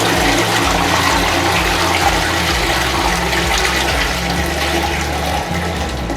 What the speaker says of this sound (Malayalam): ടോയ്ലറ്റ് കഴിഞ്ഞിട്ടുണ്ടെങ്കിൽ നമ്മളിത് ഇങ്ങനെ ഫ്ലഷ് ചെയ്യുന്നു.